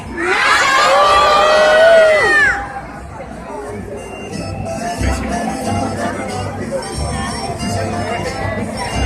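A loud crowd of children and adults shouts and cheers together on a count of three for the Three Kings at Valencia's City Hall balcony, a big burst for two seconds that drops into ongoing crowd babble.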